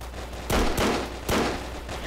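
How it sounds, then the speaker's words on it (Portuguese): Gunfire in the online shooter game Brick Force, a few sharp broadband shots in quick succession with a short gap, standing out over a noisy game background. "Esse jogo é muito fácil atirar com uma metralhadora"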